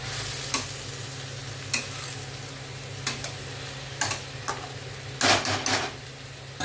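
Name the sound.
stirring rice into chicken masala pulao in a pan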